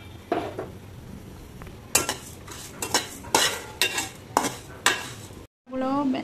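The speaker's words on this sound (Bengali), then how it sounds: "এখন আমি কড়াইতে মশলাগুলো সামান্য ভেজে নিচ্ছি।" Spices are lightly dry-fried in a wok as a metal spoon stirs and scrapes them in a steady series of about eight sharp strokes, close up with a faint sizzle underneath.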